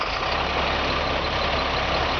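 A heavy grain truck engine runs at a steady, loud idle, a deep continuous rumble with no talking.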